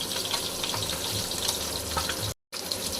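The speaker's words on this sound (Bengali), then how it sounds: "মাছগুলোকে উল্টে দিলাম, মাছগুলোকে বেশি ভাজবো না" Pieces of fish frying in a pan, a continuous dense hiss and crackle of hot oil that drops out briefly near the end.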